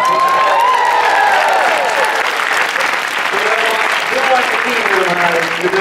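Sustained applause from a large audience at a live talk, dense and steady throughout, with cheering voices and a few whoops rising over the clapping.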